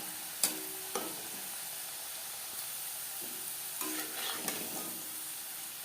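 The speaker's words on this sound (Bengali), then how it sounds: "তেল গরম করে নিয়েছি ভাজবো মিডিয়াম ফ্লেমে" Potato French fries crackle in hot oil over a medium flame: a steady, fairly quiet sizzle with a few sharp ticks and pops scattered through it.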